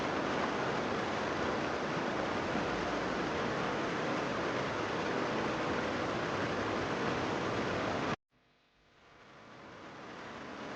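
An Austrian alpine waterfall swollen with snowmelt roars as a dense, steady hiss of rushing water, loud and unbroken, then cuts abruptly to a quieter, more distant rush that slowly swells back up.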